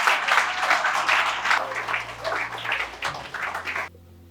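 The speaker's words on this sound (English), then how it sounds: "Clap for Kunal." Audience clapping for a student performer at an English academy competition, a loud burst of many hands with uneven surges that tails off and stops abruptly near the end.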